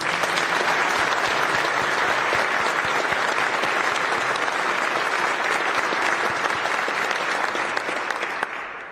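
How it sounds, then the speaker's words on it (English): An audience at a U.S.-Canada-Finland icebreaker collaboration announcement applauds steadily, with dense sustained clapping that holds at full strength for several seconds before easing slightly at the end. "Let's give him a round of applause."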